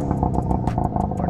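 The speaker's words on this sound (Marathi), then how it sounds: "इथे होडी थोडी आतमध्ये ढकलल्यानंतर शशीने इंजिन चालू केलं" A fishing boat's engine runs right after being started near shore for deep-sea net fishing, a close, steady mechanical drone with a rapid rhythmic chug.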